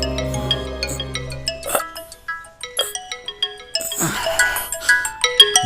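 A mobile phone ringtone plays for an incoming call from a mother, a bright electronic melody of short repeated tones that stops briefly and then resumes, loud and close, with no speech.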